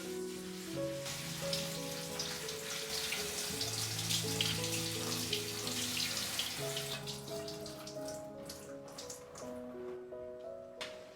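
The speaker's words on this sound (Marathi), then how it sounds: "ही मोड आलेली मटकी मी एकदा छान स्वच्छ पाण्याने वॉश करून घेते" Sprouted moth beans rinsed in clean water, a continuous gentle splashing and trickling that runs under soft tonal background music throughout.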